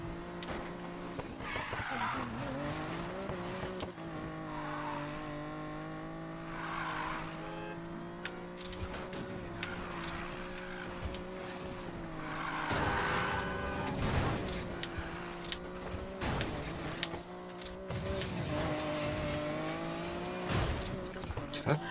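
In the Need for Speed Payback video game, a car engine drones and revs while tires skid and squeal repeatedly over a long stretch, with music playing underneath.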